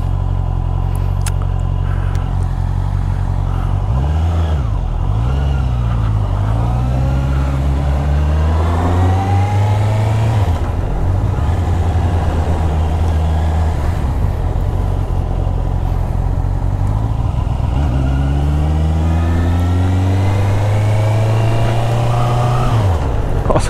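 A 2022 Honda CB650R four-cylinder motorcycle, A2-restricted and lowered, is ridden on a test ride, with the engine droning steadily close by and rising and falling in pitch through several revving accelerations and gear changes.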